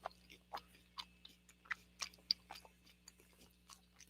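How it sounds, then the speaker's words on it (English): Faint, close crunching and chewing of food in irregular bursts, quiet and isolated with no voices. "Pardon the chewing noises."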